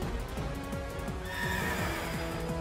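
A horse in the video game Pokémon Sword gives a loud, close whinny over game music, with rhythmic clip-clop hoofbeats.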